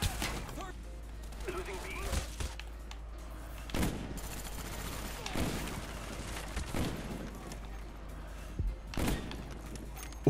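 A FAMAS rifle fires in Black Ops 1 on the Plutonium client. Sharp, close shots come in repeated separate bursts every second or two, over a steady background hum, with some talking mixed in.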